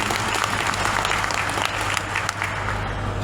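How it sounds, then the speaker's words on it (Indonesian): Audience applause at a Gerakan Rakyat political gathering in Central Java, a dense, steady wash of many hands clapping, loud and continuous with a low hum underneath. "Tepuk tangan yang hebat buat beliau"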